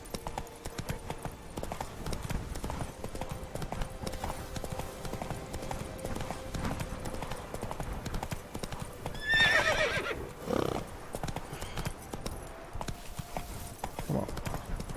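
Roach the horse trotting in the Witcher 3 video game, a steady clip-clop of hoofbeats running throughout with a whinny and snort bursting out near the middle, game music faint underneath.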